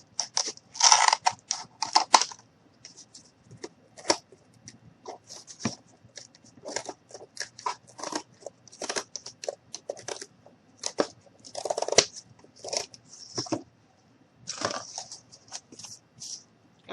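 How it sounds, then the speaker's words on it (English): Cardboard being cut by hand for a small homemade stove, giving a series of short crunchy snips and scrapes close up, with brief pauses between cuts and no talking. "then I'm going to come in on the other side and just cut"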